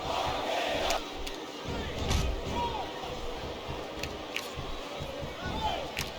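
A capacity crowd at a WWE wrestling arena roars and cheers continuously, a dense, loud wash of voices with shouts and whistles rising and falling throughout.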